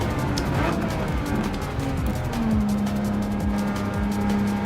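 A Ferrari Testarossa engine in Gran Turismo 7 on PS5 sends out a continuous loud drone with a tone that climbs and then holds steady. There are no voices.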